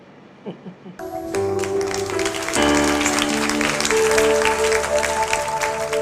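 A church congregation applauds during a sermon: a few spoken words, then sustained loud clapping from a crowd that swells and holds steady, with a tonal hum running underneath.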